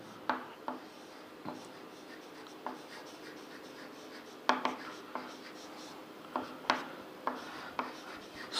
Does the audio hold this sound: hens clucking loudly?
no